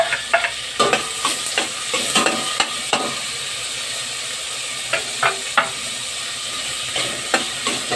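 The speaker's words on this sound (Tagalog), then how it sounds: "Halo-haloy lang po yan hanggang sa maluto yung kamatis." Tomatoes being stirred and sautéed in a pan for Filipino sinigang, a steady close sizzle broken by repeated scraping knocks of the spoon against the pan in an uneven rhythm, with no talk.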